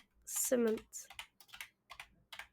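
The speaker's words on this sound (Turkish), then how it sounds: "Biz yine de klavyeyle kendimiz yazalım." Fingers tap out a command on a computer keyboard in Minecraft, with quick clustered clicks in short bursts after a brief spoken phrase.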